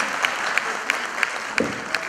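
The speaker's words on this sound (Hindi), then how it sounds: "जोरदार तालियां।" Loud, steady applause from an audience at a short stage play, dense clapping throughout with a few sharper claps standing out.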